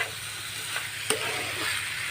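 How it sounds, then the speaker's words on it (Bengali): Potatoes and jackfruit seeds being sautéed with spices in a pan, a steady low sizzle with a couple of brief stirring scrapes, close and fairly quiet, no voices. "এবার দেখুন মশলাটা সঙ্গে আলু আর কাঁঠালের দানাটা একদম ভালো করে কষানো"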